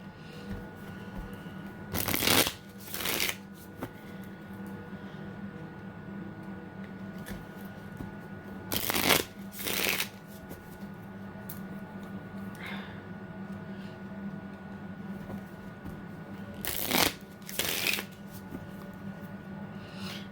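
Several short bursts of oracle card shuffling, riffles spaced apart against a quiet room hum.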